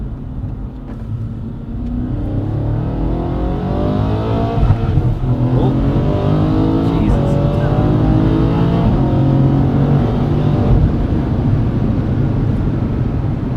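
An engine-swapped BMW M135i with an 800 hp twin-turbo V8 and four-wheel drive accelerates hard on the Autobahn, a loud, close, sustained engine roar that keeps climbing, with a brief exclamation from someone inside the car.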